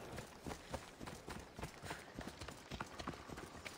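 Horse hooves clip-clop at a running pace across the ground in Assassin's Creed Odyssey, a quick uneven patter of hoofbeats, faint and close, set against a steady background hiss.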